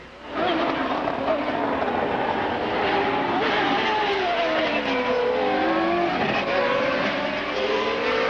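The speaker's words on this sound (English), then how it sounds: "Let's listen, see how those engines are sounding." 1980s IndyCar race cars roar past on a road course, a sustained loud engine drone with rising and falling pitch sweeps as cars pass and shift, heard at a distance with a crowd-like wash beneath.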